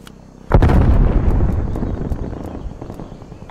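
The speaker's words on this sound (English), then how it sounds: "Grenade out." A grenade blows up in Call of Duty Black Ops, one sudden loud blast that booms and rumbles away over several seconds, with faint sharp game clicks behind it.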